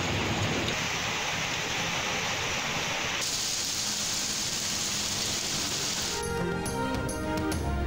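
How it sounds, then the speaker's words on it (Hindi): Heavy downpour across Islamabad and Punjab cities, a dense, steady roar of pouring rain that stays loud throughout, with a faint tonal hum joining near the end. "इस्लामाबाद और पंजाब के मुख्तलिफ शहरों में मूसलाधार बारिश।"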